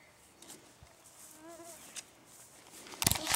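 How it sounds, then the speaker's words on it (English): Mosquitoes buzz faintly outdoors by a fishing spot, a thin wavering whine passing close for a moment amid soft background noise and a few rustling knocks. "We're going to get carried away by the mosquitoes."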